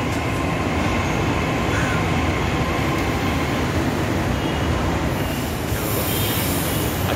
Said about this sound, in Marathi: ही पहा मेट्रो येते आहे आणि ही आता आरेला आलेली आहे.